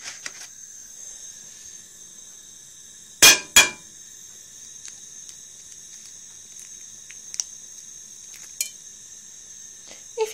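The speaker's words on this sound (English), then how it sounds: "now it's time to crack your egg into the pan." An egg cracks into a frying pan: two sharp, close knocks in quick succession, then quiet, faint sizzling with a few small clinks.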